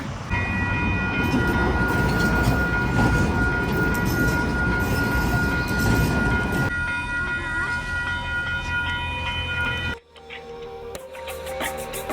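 Metro train running on rails, a loud continuous rumble and rattle with high whining tones, easing off toward the end before abruptly cutting to quieter surroundings with faint chimes.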